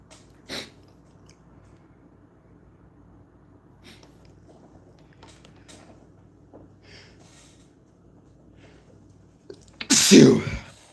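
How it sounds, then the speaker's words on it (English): A single loud, close human sneeze bursts out near the end after a long stretch of near silence, with a small breathy catch earlier. "Gonna sneeze again."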